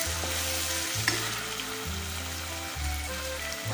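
Onions with garlic-ginger paste sizzle and fry steadily in a pan for an Indian arbi (taro root) curry, with stirring scrapes cycling roughly every second over the constant close crackle.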